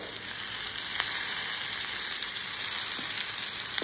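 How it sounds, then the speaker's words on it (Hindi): Chopped bottle gourd (lauki) with lemon juice stir-fried in a pan over a medium flame, giving a steady, even sizzle with a couple of faint stirring clicks and no voices. "यहाँ पे हम इसको अच्छे से मिक्स करते हुए भूनेंगे"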